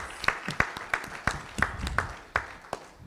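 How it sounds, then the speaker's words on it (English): Scattered clapping at a school board meeting for the spelling bee organizers, a handful of people giving sharp, separate claps in an uneven rhythm, with some talk mixed in. "Let's give her another round of applause"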